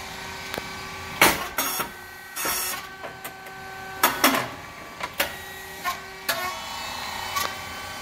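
A SYP9002 rice cake machine runs under test, with a steady mechanical hum broken by repeated sharp clacks and hissing bursts at irregular intervals, moderately loud and close, with no voices.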